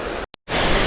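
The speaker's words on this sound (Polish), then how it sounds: "No i widok na wodospad." The waterfall in Jajce, Bosnia roars as a dense, loud, steady rush of broadband noise, cut briefly by a near-silent gap before the roar returns in full.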